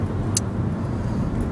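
Steady low engine rumble and road noise inside a car while driving, continuous and moderately loud, with a brief faint high click partway through and no talking.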